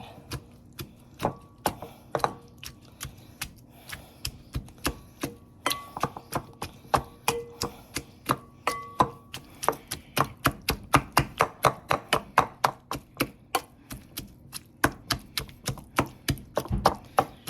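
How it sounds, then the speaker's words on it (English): Repeated sharp clacks of a hand-operated food chopper strike in a quickening, irregular rhythm, close and crisp against a quiet background. "Then we'll take our food chopper and kind of chop them up a little bit."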